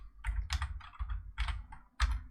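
Quick typing on a computer keyboard, a close, steady run of light clicking keystrokes with short bursts and pauses, soft and without speech.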